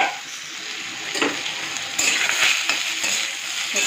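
Potatoes and squash fry in a pan with a steady, bright sizzle, with a few soft stirring scrapes and clinks partway through; no one talks.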